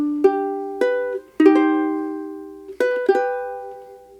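Ukulele plays the opening measures of Tchaikovsky's Waltz of the Flowers from The Nutcracker, five plucked, bright attacks ringing out over sustained notes, close and clear with no voices.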